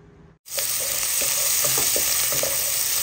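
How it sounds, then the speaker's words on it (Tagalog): Garlic, onion and ginger sauté in hot oil for a bottle gourd and sardine dish, a loud continuous sizzle after a brief quiet moment, with a few soft scrapes of stirring in the pan. "sinigisa ko po ang ating bawang, sibuyas at ang ating luya"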